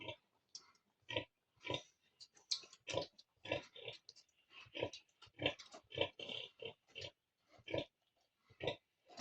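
Pigs and piglets in a pigpen give a rapid run of short grunts and oinks, close by and fairly loud, with brief squeals among them and quiet gaps between bursts.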